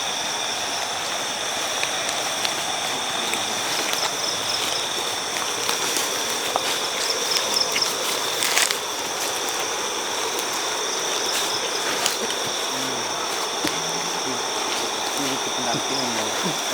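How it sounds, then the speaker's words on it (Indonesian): Continuous rushing water of a river flowing below the bank at Talawi, a dense, even wash with high insect trilling layered on top and occasional faint voices. "Sekarang kita udah berada di pinggir sungai. Nah, itu aliran airnya di bawah."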